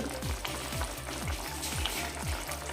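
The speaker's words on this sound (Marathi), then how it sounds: "आता यामध्ये मी फ्रेश क्रीम घालते" Chicken changezi gravy sizzling in a pan as fresh cream goes in, a constant close frying hiss with a low rhythmic bubbling pulse underneath.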